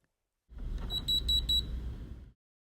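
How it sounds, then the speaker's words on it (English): A Hunter Roam LR commercial irrigation remote receiver emits four short, evenly spaced high-pitched pairing beeps over a low hum, heard alone and close. "listen for 4 additional beeps at the receiver"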